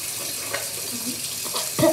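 Water runs from a bathroom tap into a sink while brushing teeth, a steady soft hiss that swells briefly near the end.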